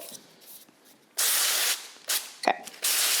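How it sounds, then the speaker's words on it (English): Cooking spray hissing from an aerosol can onto fudge pans in several separate bursts, each about half a second to a second long, fairly loud and close, with a faint click and quiet gaps between. "I did not quite put as much spray on these two."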